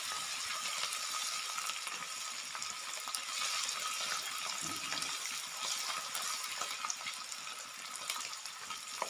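Ginger garlic paste frying in a pan for a winter aloo matar dish, a steady close crackling sizzle that holds evenly throughout with no voices.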